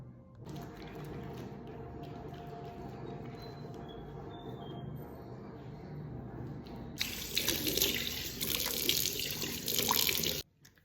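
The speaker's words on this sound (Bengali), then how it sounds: "আগে ফেস ওয়াশ করে নেওয়াটা জরুরি" Tap water running into a sink while someone washes their face, a steady close stream that turns into a louder, brighter splashing for the last few seconds before it stops.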